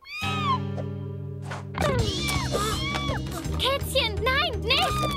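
A cat meows in long, rising and falling wails, near and insistent, while a high animated voice talks over it.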